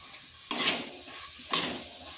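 Mashed boiled potato being mixed into cooking cabbage in a pan: two soft scraping stirs over a quiet, steady sizzle, close up.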